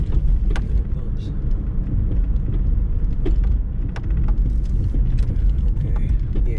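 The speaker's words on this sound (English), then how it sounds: "there's something clunking over there when you go over the bumps" Front passenger side of a gray 2007 Hyundai Sonata driven over bumps, irregular sharp clunks and knocks over a steady rumbling road noise heard from inside the car.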